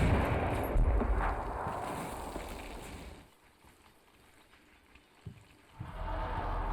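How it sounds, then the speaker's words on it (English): Naval shells from the USS Mason land on a Syrian trench line in Combat Mission Shock Force 2, a dense rumbling barrage of distant impacts that drops away midway, followed by a couple of sharper thuds. "The USS Mason starts landing rounds on the Syrian trench line over by Fox Company's insert."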